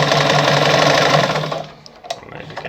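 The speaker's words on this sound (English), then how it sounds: "So when I sew through" A Pioneer semi-industrial heavy-duty sewing machine runs a wide zigzag stitch at high speed, a loud steady mechanical whir for about a second and a half before winding down to quiet, with a few small clicks after.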